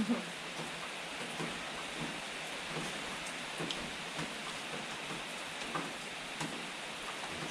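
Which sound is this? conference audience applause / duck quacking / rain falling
rain falling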